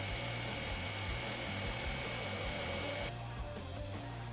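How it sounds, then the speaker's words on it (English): A loud, steady whir of a power drill boring with a 1/4 inch bit to widen a pilot hole, running continuously and then changing pitch as the bit finishes the hole. "now we're going to finish off with our 1/4 inch drill bit"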